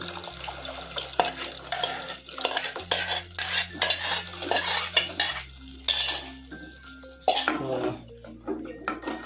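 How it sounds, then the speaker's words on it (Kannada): Cashew paste stirred into simmering mutter paneer gravy, repeated scraping and sloshing strokes of a spoon in a pot with wet bubbling and occasional clinks, loud and close over background music. "ಸ್ವಲ್ಪ ನೀಟಾಗಿ ಸ್ಟಿರ್ ಮಾಡಿರಿ ಅದನ್ನು"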